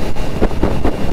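Strong headwind roars steadily past a rider on a Triumph Street Triple motorcycle, a dense, unbroken rush of buffeting wind noise close to the microphone, with no voices.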